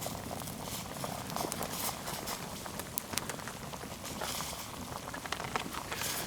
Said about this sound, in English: But you want to keep that rolling boil now until you're ready to let it simmer down